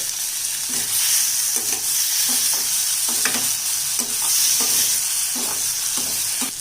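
Peeled quail eggs fry in a pan with chili masala, a constant bright sizzle punctuated by repeated scraping and clinking stirs of a spatula, close and steady with no voices.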